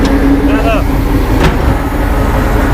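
A Ural truck's engine roars loudly and steadily while gears are shifted during off-road driving in Siberia, with a brief whine partway through and voices talking over the drone.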